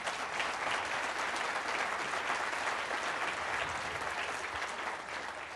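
An audience applauds a justice's dissent at a talk on democracy and the court, with a dense, steady wash of clapping from a large crowd that tapers a little at the close.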